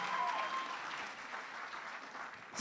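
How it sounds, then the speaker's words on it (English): Audience applause and cheering after a heartwarming song performed in three languages at a university cultural show, a steady dense wash of clapping filling the room from start to finish, with a faint whoop early on. "Let's hear another round of applause."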